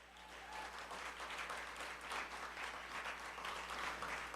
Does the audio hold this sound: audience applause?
yes